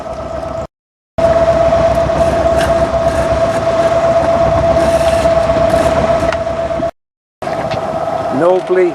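A sailing yacht's engine drones steadily while motoring at sea, a loud, constant hum with a steady tone, broken by two brief silent gaps.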